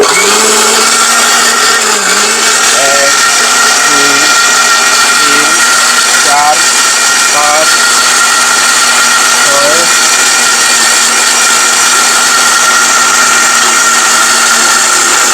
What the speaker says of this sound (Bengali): এখন এই ব্লেন্ডারের কাছে দিবেন এক ঘন্টার কাজ মাত্র দশ সেকেন্ডে করে দিবে